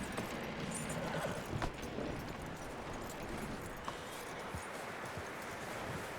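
Horse hooves clip-clopping in Red Dead Redemption 2, a steady series of moderately close hoof strikes over a busy ambient game backdrop, with a few sharper thumps and no voices.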